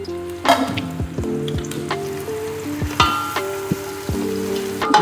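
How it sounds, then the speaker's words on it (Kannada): Thickly sliced onions tossed into hot oil for bisibele bath sizzle steadily, with a string of sharp clinks and scrapes from a utensil against the pan cutting through the frying noise. "ಫಸ್ಟ್ ಈರುಳ್ಳಿ ಎಣ್ಣೆಗೆ."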